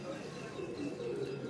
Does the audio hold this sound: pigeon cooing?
yes